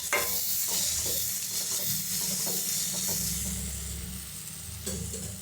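Chilli sauce and tomato sauce being stirred together in a frying pan for veg noodles, with steady scraping and a soft continuous sizzle close by, no voices.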